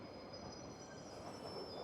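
A Metro line train passes with a steady rumble and a thin, sustained wheel squeal above it, fairly faint and continuous, with no one talking.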